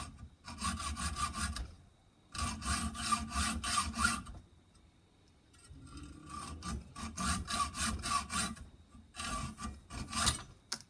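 A hand saw cuts through a threaded metal part from a vintage Mead belt sander in rhythmic back-and-forth rasping strokes, in three close bursts separated by short pauses, with no talking.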